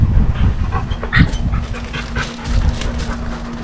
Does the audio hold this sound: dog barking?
yes